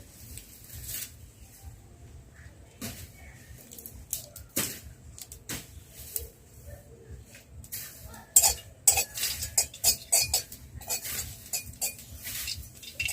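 Nigella seeds (kalo jeera) fry in a hot pan while a utensil stirs them, giving scattered metallic scrapes and clinks that grow busier toward the end over a faint sizzle, with no talk.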